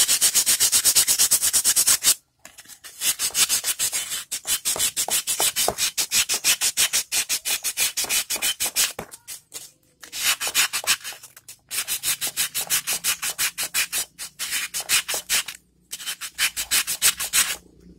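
Rapid, rhythmic rasping of sandpaper rubbing back and forth to clean crust off a motorcycle electrical part, loud and close, in several bursts separated by brief pauses.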